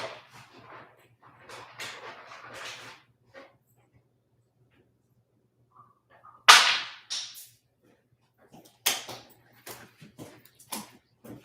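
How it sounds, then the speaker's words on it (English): Dogs begging for treats give short, scattered whimpers and snuffly breaths near the microphone, broken by gaps of silence and a few sharper yelps or bursts later on. "It's always nice when your dogs learn how to abuse you energetically by begging for treats right when you're on a live video."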